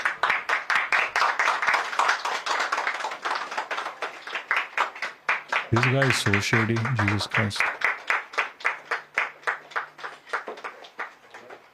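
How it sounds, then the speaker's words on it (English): Audience applause for a speaker at a public event, brisk clapping that rises and fades in waves, with someone talking over part of it and a brief tonal voice-like passage midway. "guys, a big round of applause."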